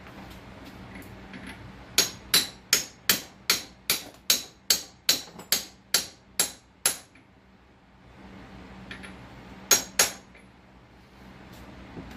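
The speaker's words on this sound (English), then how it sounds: "Using a real hammer would help." A steady series of about fourteen sharp metallic hammer strikes rings out during a transmission rebuild, then pauses, followed by two more blows in a quiet room.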